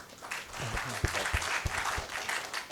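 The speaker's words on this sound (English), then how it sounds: "huge round of applause" An audience at a startup showcase event gives a round of applause for the lead investors, steady crowd clapping, fairly soft and distant, with a few louder individual claps near the front.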